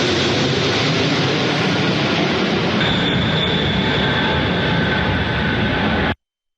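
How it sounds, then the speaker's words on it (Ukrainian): A cargo plane flies low overhead above Moscow, a loud, steady broadband roar filling the whole stretch, with a sustained higher engine tone joining midway before cutting off abruptly. "пролетів на малій висоті вантажний літак"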